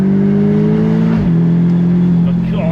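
A Lotus Emira V6 sports car accelerates hard up a hill, its engine a loud, close, steady drone that shifts pitch midway as it changes gear and keeps pulling.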